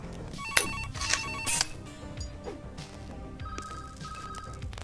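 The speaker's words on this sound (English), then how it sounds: "I like the little phone call noises." Telephone ringing in the VR retro shooter game Compound, a couple of bright electronic ring bursts early on and a steadier ringing tone later, heard over busy game sound with no talking.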